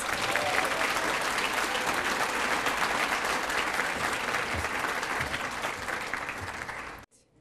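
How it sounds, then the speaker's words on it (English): Sustained applause from a large audience honoring 40-year employees at a school district recognition ceremony, dense and steady for about seven seconds before cutting off abruptly. "Now we will recognize these 40-year employees again. One more big round of applause."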